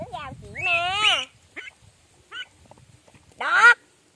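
Ducklings being fed call out in bright, wavering bursts, a loud cry near the start and another near the end with softer calls between, nearby and close to a voice.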